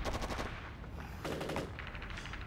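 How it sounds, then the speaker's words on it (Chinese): Machine gun fire in a Chinese war drama set in a mountain ambush, rapid bursts of gunshots rattling in quick succession, loud and dense, with a short pause before another burst and no speech. "你再听听八路军这清脆的枪声，显然是在居高临下打贵军的伏击。"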